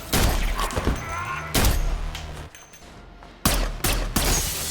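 Gunfire erupts at close range in heavy, booming bursts, several loud volleys separated by short gaps, with dull thuds of hand-to-hand combat mixed in.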